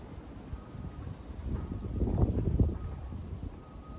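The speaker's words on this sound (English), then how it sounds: "Windy north, bad north wind." Strong north wind gusting in a low, rumbling roar that swells in the middle and buffets close to the microphone, with no voices.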